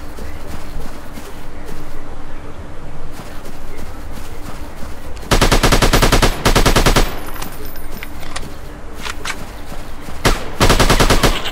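Rapid bursts of automatic gunfire in the dinosaur-hunting shooter Dinosaur Hunter and Shooter 3D, loud and close, coming in long rattling volleys with quieter gaps of game ambience between them, no talk.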